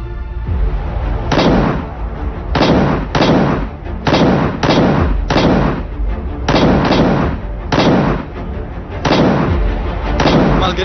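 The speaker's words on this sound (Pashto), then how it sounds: "ملګري دا ډزې له کوم ځای نه شوې؟" Sniper gunfire from a western hill in a drama scene, loud heavy booming shots in irregular bursts, about a dozen blasts close together with brief gaps, no talk over them.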